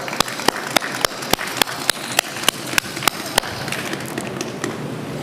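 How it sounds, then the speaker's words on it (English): Crowd applause for Ruth Bader Ginsburg at a Brooklyn Municipal Building renaming ceremony, a broad wash of clapping with one sharp, regularly spaced close clap standing out through most of it. "Let's give her a round of applause that she will hear."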